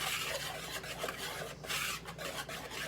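Dry flour, baking soda, baking powder and salt whisked in a bowl for cookie dough, a steady close scraping rasp with short rhythmic strokes throughout, no talking.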